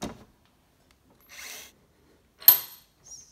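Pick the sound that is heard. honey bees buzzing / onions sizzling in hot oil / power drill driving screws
power drill driving screws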